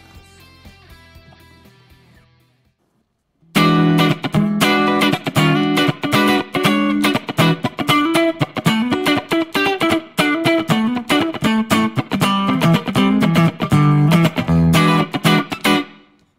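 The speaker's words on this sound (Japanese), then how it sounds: "では同じようにですね、クリーンと歪みで軽く引いてみたいと思います。 まずは、フロントのハムからいきます。" Combat electric guitar played through its front humbucker, a soft clean passage for a few seconds, then a brief gap before a loud, dense distorted section of strummed chords and riffs that runs to the end, with no talk.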